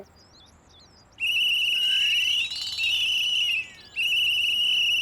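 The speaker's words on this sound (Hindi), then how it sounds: "ये वो चौकीदार की सीटी की आवाज है।" A watchman's shrill whistle is blown loudly in two long blasts with a brief break between, piercing and close, with a softer trill just before.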